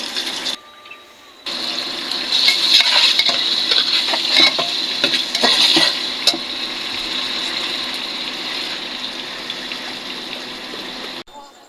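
Ginger garlic paste being stirred in a hot frying pan, a loud hiss and sizzle with sharp utensil scrapes and clicks against the pan, then a steadier frying hiss that cuts off at the end.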